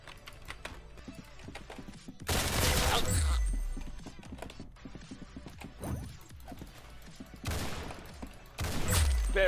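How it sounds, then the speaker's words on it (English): Gunfire in a one-on-one video game match, with loud sustained bursts of rapid shooting in several separate waves between quieter clicking stretches. "Very good shooting."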